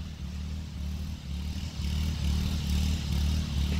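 Riding mower engine laboring up a steep muddy hill, a low rumbling drone that swells louder in the second half, close and unbroken with no talk.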